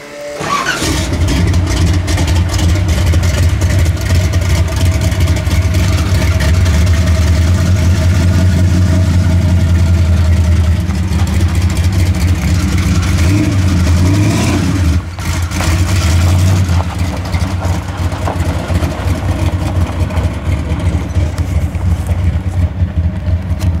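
A truck engine idles loudly up close with a deep, lumpy rumble that holds steady for over twenty seconds, with small fluctuations and a brief dip partway through.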